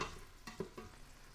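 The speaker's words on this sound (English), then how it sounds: "I love the smell of sauteed celery though" Celery sauteing in a pan gives a faint, steady sizzle, with a few soft stirring scrapes and clicks standing out briefly near the middle.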